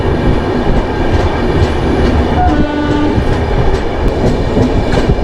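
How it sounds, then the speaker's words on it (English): Sambaleswari Express passenger train running at speed through the Chotanagpur plateau, a loud continuous rumble and rattle of wagons on the rails with rhythmic clacking and a brief horn-like tone. "the train has gathered good speed"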